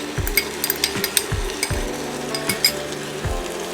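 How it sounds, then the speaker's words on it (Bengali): Chicken being stirred with beaten yogurt in a hot frying pan, with a steady sizzle under a series of repeated scraping and tapping strokes of a spoon against the pan, close and fairly quiet. "চিকেনের সাথে টক দইটাকে খুব ভালোভাবে মিশিয়ে নেব।"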